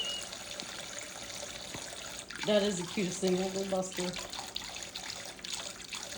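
A dog splashing while bathing in a water-filled dish during an indoor dishwashing session, with short bursts of splashing and trickling water close by, and someone talking softly over it.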